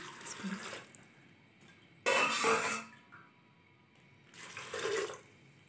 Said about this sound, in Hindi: अब हम इसमें पानी शामिल करेंगे।